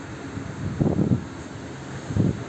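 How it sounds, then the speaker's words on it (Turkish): Strong wind rushing across the microphone in steady low gusts, with a couple of louder buffets swelling briefly, outdoors while flying pigeons. "Aşırı rüzgar var."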